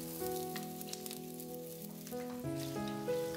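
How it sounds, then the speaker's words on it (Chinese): Sliced pork belly hits a little cooking oil in a hot wok and gives off a soft, steady sizzle, faint and continuous beneath background music. "锅中倒入少量的食用油，倒入切好的五花肉"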